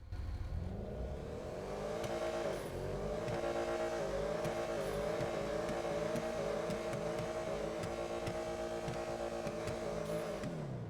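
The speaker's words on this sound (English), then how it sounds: "Let's rev it up" A Benefactor Schwartzer car engine in GTA Online revs repeatedly, rising and falling in pitch with a loud, throaty, steady drone throughout.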